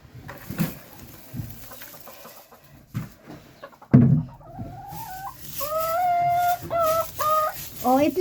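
Hen clucking and calling as she gets ready to lay an egg, sparse clucks first, then louder drawn-out rising cackles close by, with faint background noise.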